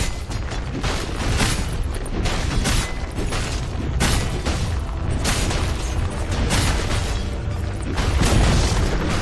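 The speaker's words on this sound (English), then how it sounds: "Dire's bottom tower has fallen." A tower being destroyed in Dota 2, heard as dense, loud rumbling booms and crashing bursts that keep up without a break, with game battle noise throughout.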